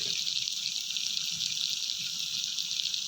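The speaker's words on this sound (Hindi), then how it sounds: "आधा लीटर पानी शामिल करेंगे" Half a litre of water pours into a kadhai of Peshawari nimkeen with a continuous bright, hissing rush that stays even throughout, close by and without speech.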